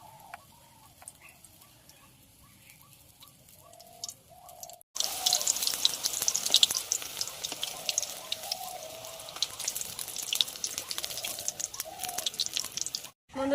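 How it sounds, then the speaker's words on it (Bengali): Chicken-stuffed eggplant fritters (beguni) frying in hot oil: faint, sparse chirps at first, then a sudden, steady crackling sizzle that runs close and continuous to the end. "বন্ধুরা একে একে আমি সব বেগুনিগুলো এইভাবে ভেজে নেবো।"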